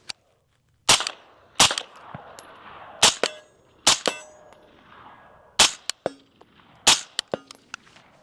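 Shots from a Griffin Armament HRT 556 rifle at steel targets on a range, sharp loud cracks fired singly and in pairs at irregular intervals, several followed by bright metallic pings from the steel.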